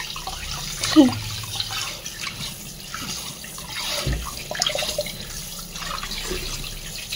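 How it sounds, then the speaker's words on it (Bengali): Meat is rinsed under running water, with a steady faucet stream and splashing handling noises at close range. "মাংসগুলো ভালো করে ধুয়ে নিচ্ছি"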